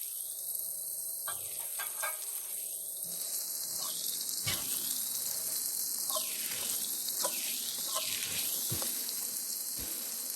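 Mixed vegetables and corn frying in a pan for chira pulao, a loud continuous sizzle with repeated scraping stirs of a spatula and occasional clinks, close up and without talk.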